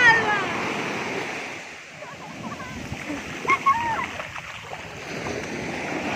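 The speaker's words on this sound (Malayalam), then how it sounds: "നല്ല തിരയുണ്ട് കേട്ടോ." Ocean waves at Azheekkal beach, heard as a continuous broad wash of surf with occasional louder splashes, steady and fairly close, with the roar of wind mixed into the seaside noise.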